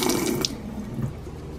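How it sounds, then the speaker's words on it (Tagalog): Harvested blue ternate flowers rinsed under a running kitchen tap, a steady close splash of water with a brief louder spatter partway through. "Ito yung blue ternate flowers. So, hugasan muna natin."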